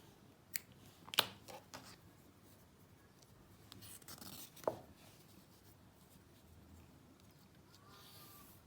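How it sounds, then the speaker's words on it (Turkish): Scissors snip crochet yarn, a cotton baby yarn, in a quiet indoor setting, giving a few sharp, brief cuts spaced apart with faint handling noise between them and no talking. "İpimi biraz uzun kesiyorum."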